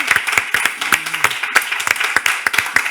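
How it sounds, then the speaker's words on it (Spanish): A comedy festival audience claps for a debate moderator, steady, fairly close applause with distinct sharp hand claps, with a brief voice beneath it. "Un fuerte aplauso a ti."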